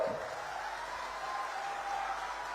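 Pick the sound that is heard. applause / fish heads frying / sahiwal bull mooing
applause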